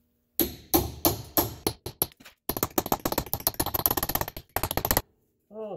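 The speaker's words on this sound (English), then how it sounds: "We gotta get a punch to smash that through." A punch is hammered against a seized ABS sensor in the front wheel hub of a Nissan Rogue (X-Trail): a close series of sharp metallic strikes, some quick and clustered, others spaced, with a brief pause midway.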